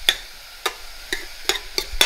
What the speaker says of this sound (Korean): 다진 마늘과 양파를 넣어서 충분히 약간 양파에 갈색이 날 때까지 볶아 주실 거예요